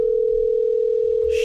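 A steady telephone dial tone holds as one continuous, unbroken pitch throughout, clear and fairly loud with no talking over it, ending in a brief burst of hiss.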